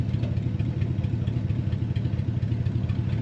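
A 1936 Ford Model 68 Deluxe street rod engine idles steadily at close range, a low, even rumble with a faint clattering texture and no talk over it.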